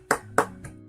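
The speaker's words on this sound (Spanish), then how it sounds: "Un fuerte aplauso para el oficial Turner." Applause for Officer Turner at a police graduation in a video game comes as two sharp, close hand claps followed by a softer third, sparse and quick within one second, with no voices.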